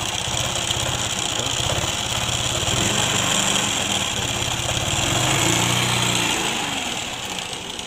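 A Honda Wave 100 motorcycle engine runs roughly, likely from a worn timing chain, with a steady near grinding idle and irregular low pulsing for about eight seconds, no talking.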